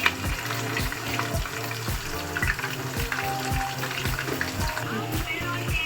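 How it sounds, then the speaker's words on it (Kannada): Onion and green chillies fry in a pan for mutton biryani, a steady close sizzle with scraping stirs and clatter running throughout, no talk. "ಉಳ್ಳಿ, ಹಸಿಮೆಣಸಿನ್ಕಾಯಿ ಹಾಕ್ತೀನಿ."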